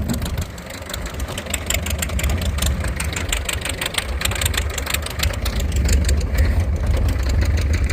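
An old wagon's engine runs steadily and loudly in cold weather, a low uneven rumble with a rapid knocking rhythm throughout. Faint voices may sit underneath.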